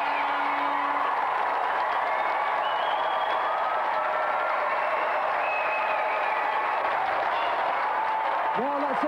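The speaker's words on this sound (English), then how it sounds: "let's have a round of applause for our gallant challenger, Doug Jones" Steady studio audience applause on a TV game show fills the whole stretch, dense and continuous with a few whoops, ending in a rising musical sting.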